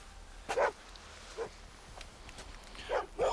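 A dog gives several short, muffled barks and yips spaced a second or so apart, with faint whimpering sounds between them, fairly quiet against a low background hum.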